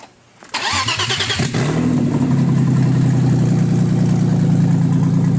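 A fully forged BMW S52 engine fires up for the first time after a short crank, with a loud rev that quickly settles into a strong, steady idle close by.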